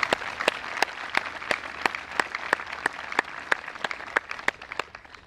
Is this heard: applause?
yes